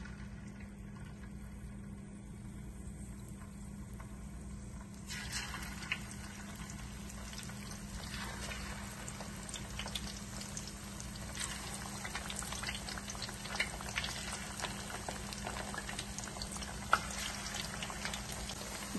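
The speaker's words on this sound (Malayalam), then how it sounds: "ഇനിയും ഇതിലേക്ക് മീൻ ഇട്ട് ഒന്ന് വറുത്തെടുക്കാം." Fish fries in hot oil in a pan for a Kerala-style fish molee, a continuous close bubbling sizzle with a low steady hum under it, growing livelier partway through, with scattered pops and no voices.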